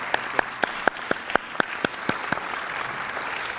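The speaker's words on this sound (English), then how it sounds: "if we could get a round of applause" An audience at an International Overdose Awareness Day event applauding its speakers: a few distinct, sharp claps in a rough beat standing out over a softer wash of general clapping that gradually fades.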